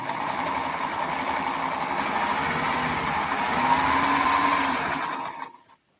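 Sewing machine stitching a quilt, a steady high whirring hum that holds for about five seconds, rises slightly in pitch, then winds down to silence.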